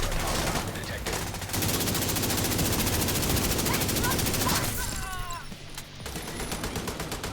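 Automatic gunfire in a multiplayer shooter video game rattles in fast, dense bursts. It runs almost continuously and fairly loud, with a short lull near the end.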